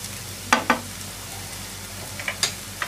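Onion, tomato and cumin powder being stirred in a pan for Mumbai-style ragda: a few sharp spoon scrapes stand out near the start and toward the end, over a faint steady background.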